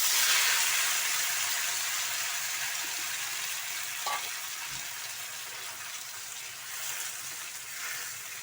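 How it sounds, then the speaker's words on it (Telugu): Finely chopped, washed tomatoes fry in hot oil for a tomato chutney, making a steady loud hiss and sizzle that fades slightly over time, with a couple of faint knocks and no voices. "ఆయిల్ హీట్ ఎక్కిన తర్వాత టమాటాలు సన్నంగా కట్ చేసుకుని ఇలా ముక్కలు వేసుకున్నాను"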